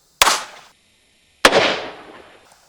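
Two sharp, close pistol shots from a tiny Baby Bauer handgun, each a crisp crack with a short echoing decay, spaced about a second apart with silence between.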